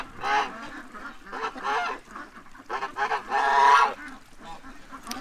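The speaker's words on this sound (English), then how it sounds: "These two geese don't want me talking. The more I talk, the louder they're getting." Two geese honk loudly in repeated bursts close by, a harsh rising clamor that swells toward the end, with short pauses between calls.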